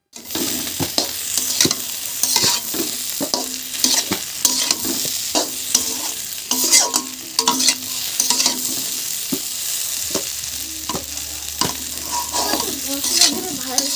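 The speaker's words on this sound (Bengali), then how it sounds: "দিয়ে ম্যাশ করে আলুটা ভালো করে ভাজা ভাজা করে নেব" Mashed potato filling with grated ginger and chopped chilli fries in a pan while being stirred, with repeated scraping and clinking strokes of a utensil over a continuous close sizzle.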